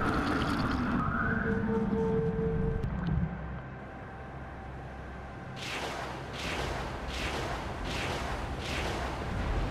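A submarine torpedo tube fires in the naval game Cold Waters, a deep rumbling launch surge followed by a quieter lull and a series of rhythmic whooshing pulses fading out.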